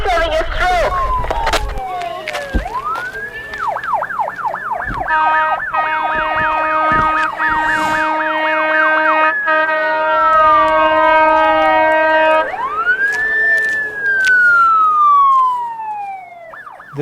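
Emergency siren wailing loud and close, sweeping up and down with fast yelp cycles in the middle before returning to slow wails.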